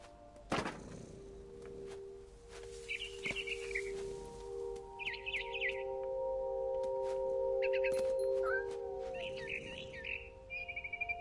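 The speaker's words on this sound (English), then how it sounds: "Then I heard chirping outside my window. It was a barn swallow going back to her nest." A frightened barn swallow chirps in short, bright bursts from a video game scene, the calls scattered over a steady tonal hum with a sharp thump near the start.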